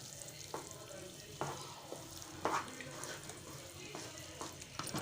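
Gram flour being stirred and roasted in ghee for channa dal burfi, a soft steady sizzle broken by occasional scraping strokes of the spoon, close and fairly quiet.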